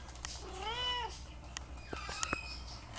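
A pet parrot, a Princess of Wales parakeet, imitates a cat's meow at home, giving one drawn-out, whiny call followed by a few short chirps, close and clear over a low background hum.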